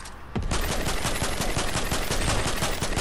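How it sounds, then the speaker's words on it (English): Rapid automatic gunfire rattles without a break in a Fortnite match, loud and close, with dense, evenly spaced shots running through the whole stretch after a brief lead-in. "You stay back there shooting at him."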